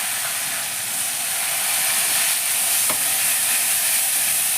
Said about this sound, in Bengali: এবার এই পেঁয়াজটাকে আমাকে একদম লাল লাল করে সুন্দর করে ভেজে নিতে হবে।